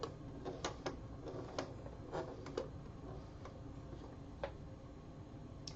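A home sewing machine's flywheel is turned by hand through one slow rotation, giving soft, irregular mechanical ticks and clicks over a steady low hum, fairly close and quiet.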